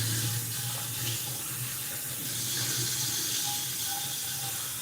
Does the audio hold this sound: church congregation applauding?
no